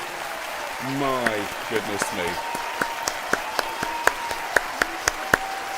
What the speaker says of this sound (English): I'm going to hit all the applause buttons at once